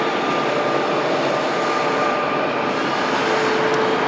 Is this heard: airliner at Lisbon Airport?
yes